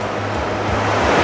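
Ocean waves wash steadily onto a long beach at a resort outside Kota Kinabalu in Sabah, a continuous broadband surf roar with wind, no voices.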